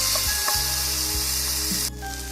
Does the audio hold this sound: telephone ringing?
no